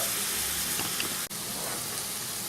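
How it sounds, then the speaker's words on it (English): White wine simmering and reducing in a pan for Alsatian sauerkraut sauce, a steady close sizzle and bubbling hiss that runs throughout with one brief dropout in the middle and no talk. "I've let that wine cook down now to where it's pretty much just a little memory in there"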